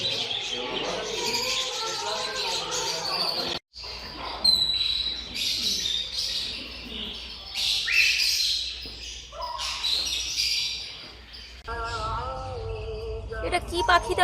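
Birds at a pet market in Dubai, giving chirps, squawks and cooing calls mixed with market bustle, while people talk throughout.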